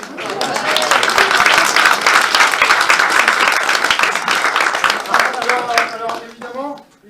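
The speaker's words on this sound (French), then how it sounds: "Regarde public, applaudissements." Audience applause at a devil stick cabaret show, sustained sharp clapping from a close crowd, with a voice speaking over it and a few vocal sounds as it fades out.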